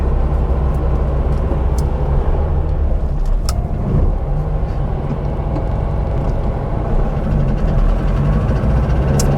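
A Porsche 912 engine idles fast at around 2,000 revs, a loud, steady, continuous rumble with an even mechanical throb heard close up throughout.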